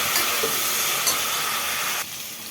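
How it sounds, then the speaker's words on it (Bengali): Carrots fry in ghee in a pan, giving a steady close sizzling hiss with a faint stir or two, the sizzle dropping quieter near the end. "একদম গাজরটা কিন্তু ভাজা হয়ে গেছে দেখো ঠিক আছে গাজরটা ভাজা হয়ে গেছে আর নিচে এখনও ঘি আছে"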